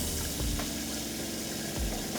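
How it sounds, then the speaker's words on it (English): A water pump kicks on in an espresso cart's plumbing system, a steady mechanical hum with water running through the lines, loud and continuous for the whole stretch with no talking. "So the pump's kicking on."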